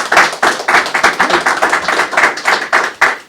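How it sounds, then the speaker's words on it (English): Audience clapping for Sid at a Citizen of the Year award ceremony, a fairly close run of fast, steady claps from a modest crowd that carries on without a break. "if you guys would like to give Sid a round of applause"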